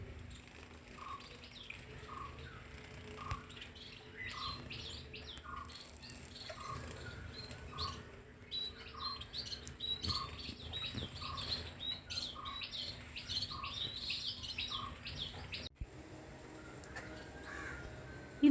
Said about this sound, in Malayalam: ഇത് കരിയിലക്കിളി എന്ന് പറയുന്ന പക്ഷികളാണ്. ഇതിനെ 7 സിസ്റ്റേഴ്സ് എന്നൊക്കെ പറയും.